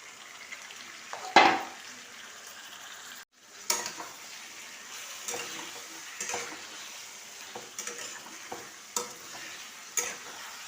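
Marinated chicken hitting hot ghee with masala in a pan, a sharp sizzle at first, then steady frying broken by scattered stirring scrapes and utensil clinks, close and moderately loud with no talk.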